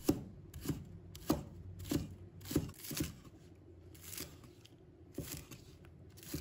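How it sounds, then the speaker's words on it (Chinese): A knife chops a bunch of scallions into short pieces on a cutting board in a home kitchen, crisp close strokes landing in a loose rhythm of roughly a dozen cuts with brief pauses between. "再准备1把小葱，把它切成小段。"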